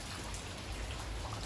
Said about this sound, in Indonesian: kondisi sekarang lagi sedang turun hujan nih mas bro